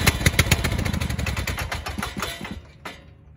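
A hard-starting lawnmower engine running right after starting, a loud close sputtering chug that fades and cuts out near the end.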